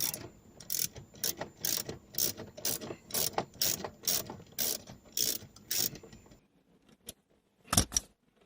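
A ratchet clicks rapidly and rhythmically while unscrewing the centre console screws on a 1986-model-range Porsche Boxster 986, close and crisp in bursts, then stops, followed by a few isolated metallic clicks.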